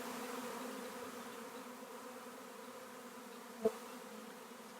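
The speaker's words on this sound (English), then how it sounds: "Still see there's thousands, tens of thousands of bees still flying." Honeybee swarm flying, a continuous low hum of thousands of bees, faint and steady throughout, with one brief sharp buzz close by near the end.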